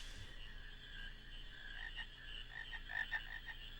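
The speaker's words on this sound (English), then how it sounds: "There is a frog" Frogs croak in Final Fantasy IX, a faint series of quick chirping croaks over a low ambient game hum, growing busier toward the end.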